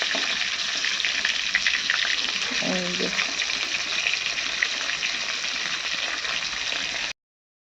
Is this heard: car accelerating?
no